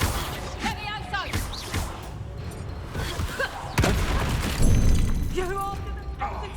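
Spell explosions from Bombarda being cast in Hogwarts Legacy, heavy booms and crashes layered over a dense battle mix, with a strong blast near the middle and another soon after, while voices speak throughout.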